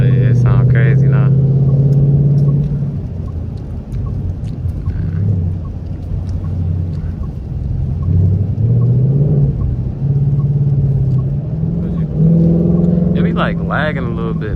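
A deep V8 exhaust of a 2019 Ford Mustang GT rumbles and revs loudly nearby, rising and falling throughout, with people talking over it.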